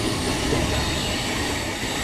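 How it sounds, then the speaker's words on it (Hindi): The Valsad–Haridwar Superfast Express rolls through a turn toward Ghaziabad near Hazrat Nizamuddin, a loud, steady wash of rumbling wheels and rail noise with faint squealing, continuous and close, no talk. "ये पूरी ट्रेन यहाँ से घूम जाती है गाज़ियाबाद की तरफ"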